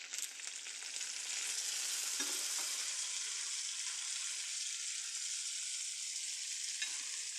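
Cucumber sautés in a pan with browned onion, giving a steady, bright sizzle throughout with a couple of soft stirring knocks and no voices.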